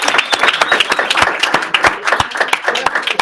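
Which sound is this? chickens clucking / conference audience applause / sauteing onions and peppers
conference audience applause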